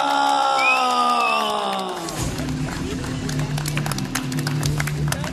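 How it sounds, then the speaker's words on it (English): Crowd at a boxing match cheering a knockout winner, a sustained tone and announcer-like voice giving way midway to a roar of shouting, cheering and clapping that continues to the end. "Let's make some noise for Suresh Prasad"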